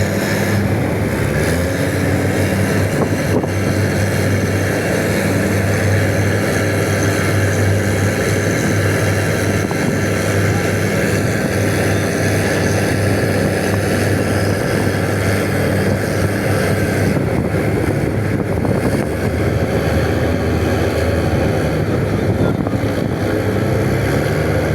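A Tiger skip boat's loud engine drones steadily on a river with a strong current between Navotas and Malabon, heavy wind buffeting the microphone over the continuous close roar.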